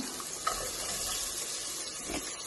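Onions frying in a pan for lentil rice, a steady dense sizzle running throughout with a couple of faint clinks, no voices.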